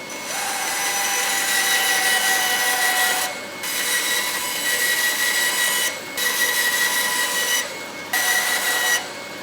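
A small saw, fitted with a clamped zero-clearance insert, cuts tiny walnut pieces in a steady broadband rasp that runs in several sustained passes, each broken by a brief pause, loud and close with no talking.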